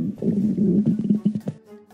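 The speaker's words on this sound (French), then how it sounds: "Je viens d'entendre ton estomac gargouiller." A stomach gurgles and rumbles in a low, bubbly run for about a second and a half, then trails off into a quieter murmur, heard close up with no talking.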